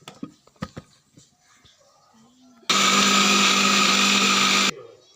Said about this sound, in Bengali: এখন এটা আমি ব্লেন্ডার করে নিব।